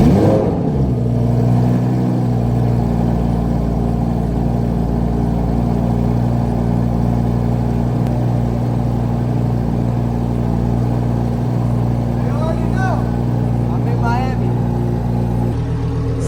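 A rented Lamborghini V10 fires up with a loud bark, then settles into a steady, deep idle with a strong low hum that holds throughout, close to the car, with some voices heard briefly over it.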